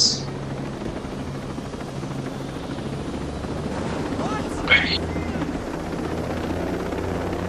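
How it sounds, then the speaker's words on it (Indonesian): A helicopter flying in Ghost Recon Breakpoint makes a steady, close rotor and engine drone that fills the whole stretch, with a brief sharper swish partway through. "Bisa nembak nih kayaknya helikopter ini."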